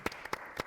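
Sparse clapping from an audience at a Korean hearing-awareness event, a handful of distinct, fairly soft hand claps spaced irregularly over a quiet background.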